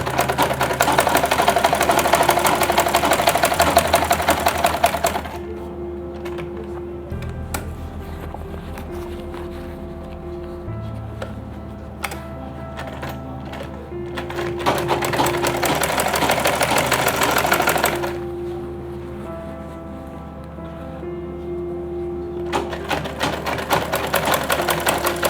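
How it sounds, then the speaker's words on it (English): A sewing machine stitches fabric for a lunch bag, its motor running in steady rapid bursts with pauses in between where it stops and restarts, close and clear with no talking. "As I'm sewing it."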